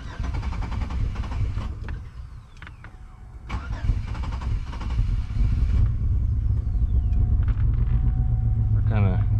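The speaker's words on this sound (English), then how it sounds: "We're kind of idling rough right now, as we have air in the line and everything." Engine of a 2001 Chevy Impala idling roughly with air in the fuel line after a fuel sending unit replacement, a steady loud low rumble throughout with a few clanks and talk over it.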